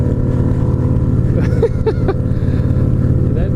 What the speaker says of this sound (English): that guy's bike is pretty loud